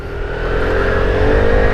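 An Aprilia SR GT 200 scooter engine revs steadily on a track's front stretch, a close, loud, continuous drone rising slightly in pitch with no talk.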